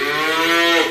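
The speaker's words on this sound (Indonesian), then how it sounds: "Kita lihat kandang sapi" A single loud, close moo from Limousin and Simmental cattle held in a cowshed, a sustained drawn-out bellow lasting under a second.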